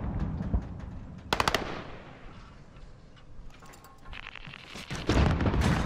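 A first-person shooter match erupts with a grenade blast and bursts of automatic gunfire, loud and sharp, with clusters of rapid shots near the start and end and a rumbling boom in between.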